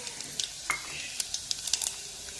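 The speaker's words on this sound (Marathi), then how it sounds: "लसूण लाल झाला का मग जिरे टाकायचे" Garlic and cumin sizzling in hot oil, a steady crackling hiss broken by small sharp pops, fairly close.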